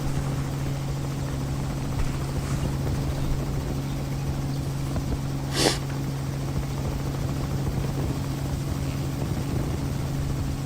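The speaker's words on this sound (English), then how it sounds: "I can now hear the chopper" A helicopter drones overhead, its steady rotor hum holding a low tonal throb throughout, moderately loud and unchanging, with a brief sharp noise burst midway.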